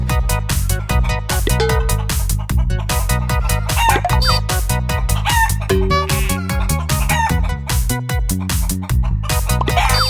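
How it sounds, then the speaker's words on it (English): Farm chickens cluck and crow loudly and without a break, a busy, layered stream of calls mixed with other steady tonal sound. "Chicken, and they love to be pet on their head."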